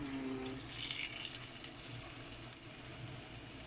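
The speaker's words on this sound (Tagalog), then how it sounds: "maglagay tayo ng tubig para siya ay lumambot" Water pours steadily into a cooking pot of pork spare ribs being stewed for kaldereta, a continuous close splashing stream with a brief higher trickle early on, heard alone without talk.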